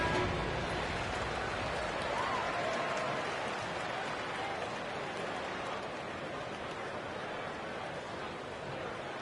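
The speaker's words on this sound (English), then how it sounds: "Please give a big round of applause for your Magic Youth Dance Team." Broad, steady crowd applause like an arena filling the space, even and sustained for several seconds, in the NBA 2K23 basketball video game.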